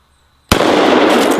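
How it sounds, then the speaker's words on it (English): A double-barrel 1911 pistol fires two 230-grain bullets at once at a pot, one loud, sharp report after brief silence, then a dense rolling echo that lingers for about a second. "we're firing 2 230 grain bullets every time we pull the trigger"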